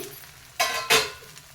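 Oil drizzled over a spicy fenugreek-leaf dosa on a hot pan gives two quick, quiet sizzling bursts close by, with no talking.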